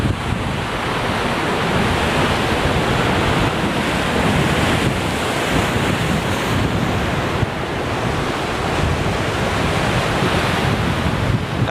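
Large ocean waves break continuously on the shore, a loud, dense roar of surf mixed with wind buffeting the microphone, constant with no pauses and no voices.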